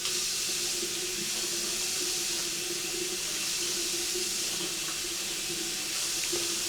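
Warm water pours steadily from a tap into a sink, a constant close hissing rush with no talking.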